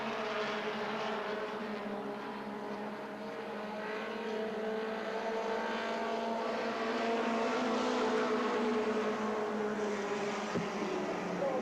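Modified mini stock race cars at Peach State Speedway in Jefferson, Georgia drone past in a steady, layered engine roar that swells gradually and holds, heard from a distance with no talk over it.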